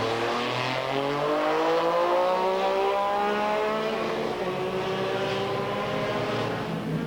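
Triumph Speed Triple motorcycles race at Donington Park in 1994, with high-revving engines screaming past, their pitch rising and falling as the bikes sweep by in a continuous, loud roar.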